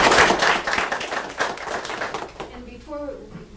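Applause rises for Joanne at a nursing education presentation, a burst of many hands clapping that fades out after a couple of seconds, followed by a voice starting to speak.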